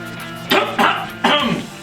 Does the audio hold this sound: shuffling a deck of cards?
no